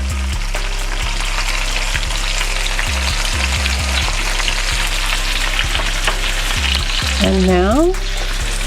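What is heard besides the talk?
salmon fillets with garlic frying on stove top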